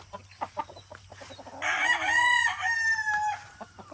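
A Golden Boy Sweater gamefowl rooster at a game farm crows once, a loud drawn-out call lasting about two seconds, framed by soft clucks and scratching sounds before and after.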